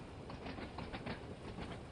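A Class 101 diesel train on the Isle of Wight line in Train Sim World 2 rolls along with rhythmic clickety-clack over a rumbling, moderately faint running noise.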